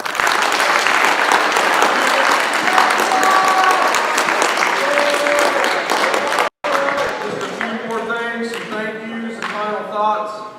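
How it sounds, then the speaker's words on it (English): Sustained applause from an audience at a high school fall sports awards assembly, dense and steady for several seconds, then a brief break before a speaking voice continues over it. "Let's give all of our players and such one more round of applause"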